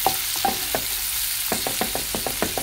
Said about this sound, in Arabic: بعد ان نقلب البصل شوية ويجي احمر